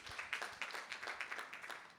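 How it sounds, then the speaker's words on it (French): Light, scattered clapping from a small group at an association's annual general meeting, fairly quiet and brief, with sharp irregular hand claps overlapping. "Donc bravo Marion, je lui dirais que vous avez applaudi."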